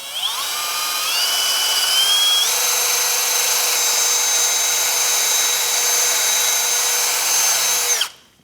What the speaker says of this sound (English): Now we will be using a wire brush to clean our mounting area.